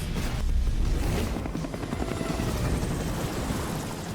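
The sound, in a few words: helicopter in Devil May Cry anime episode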